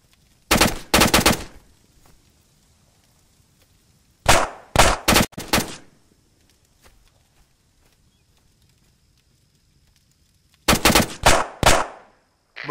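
Machine gun fire in the ARMA military video game: three separate loud bursts of rapid shots, each lasting about a second or two, with near silence between them.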